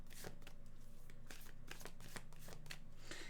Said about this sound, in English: While you're waiting for me to shuffle